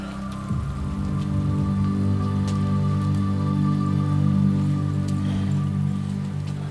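Steady rain falls on an outdoor movement class, a continuous close patter of drops spread evenly over a low droning hum, with no voices.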